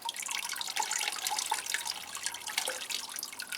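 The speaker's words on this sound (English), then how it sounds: "I'll just wet the aerial roots, as I said before, making sure I don't get any water in the crown of the plant." Water trickles and splashes steadily onto the aerial roots of a Phalaenopsis orchid, a close, continuous light pouring with faint drips and no talking.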